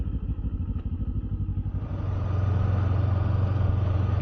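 A Kawasaki Ninja 7 hybrid motorcycle rides off: a throbbing engine idle gives way to a steadier, rising drone as it pulls away, loud and close with no talk.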